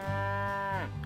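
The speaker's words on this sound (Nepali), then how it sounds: "गाईको बाँ बाँ पनि सुन्दैछु।" A cow moos once, a close, full, sustained low call that bends downward near the end.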